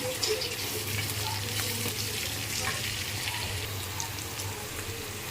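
Onions and green chillies fry in a clay kadai during egg biryani preparation, giving a steady, close, loud sizzle with crackling that carries evenly throughout without any talk.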